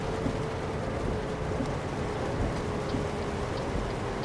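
Rain drums steadily and densely in American Truck Simulator, a constant close wash of patter with a low truck rumble beneath and no talk.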